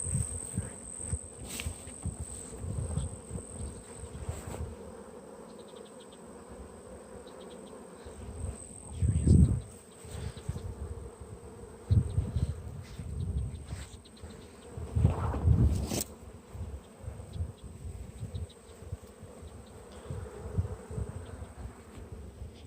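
Honey bees buzzing around hives in sunshine, a continuous close drone with individual bees swelling loudly past the listener now and then.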